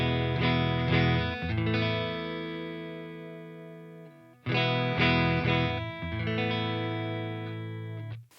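Clean neck-pickup electric guitar played through a budget effects pedal, ringing sustained chords with two strummed phrases separated by a brief gap, close and fairly loud with no voices.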